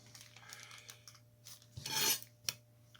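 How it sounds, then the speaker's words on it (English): Material being rubbed lightly along the edge of a book page during rebinding of an Adventures of Huckleberry Finn copy: soft, close scratchy rubbing strokes with a louder rasping burst near the end, then a brief sharp scrape. "I'm just going to lightly rub that on there"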